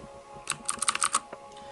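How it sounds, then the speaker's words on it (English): Typing on a quiet mechanical keyboard: a quick burst of about a dozen soft, closely spaced key clicks close to the listener, followed by a single later tap and then quiet. "So I really like the feel, the type, the sound on this keyboard."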